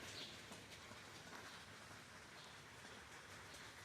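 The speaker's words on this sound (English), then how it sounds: "here comes the rain again." Steady, faint rain falls outdoors where a 1975 Super Beetle's quarter panel is under repair, a soft continuous hiss with no talk.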